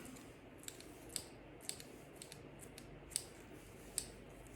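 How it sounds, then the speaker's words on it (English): Quiet, crisp snips of scissors cutting chives at an irregular pace, a handful of sharp clicks against a soft, low background. "I prefer to use a pair of scissors."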